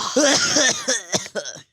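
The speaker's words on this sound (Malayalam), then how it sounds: "ചുമക്കുന്നുണ്ടല്ലോ" A person coughs several times in quick succession, loud and close, with harsh, throaty bursts and a brief throat-clearing rasp before silence.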